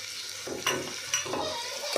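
Ground coriander-cumin powder and finely chopped potato frying in a pan for Gujarati vaghareli khichdi, a soft close sizzle with a couple of stirring scrapes, no voices.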